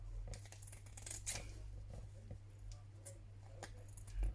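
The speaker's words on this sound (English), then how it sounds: "I'm going to hold it down and cut my heart" Scissors snipping through paper to cut out a heart shape, a series of quiet, irregular close-up crisp cuts and rustles over a low steady hum.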